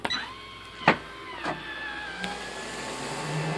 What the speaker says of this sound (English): That was actually the sound of the vent opening and the fan turning on.